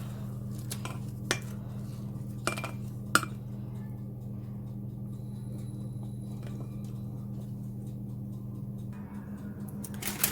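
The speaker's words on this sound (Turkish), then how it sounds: "Şimdi tencerenin kalanını da e, spatula ile şöyle sıyıracağız." A few light scraping and clinking hits of a spatula against a metal pot, scraping out the last of a dessert batter, spaced out over a constant low background hum.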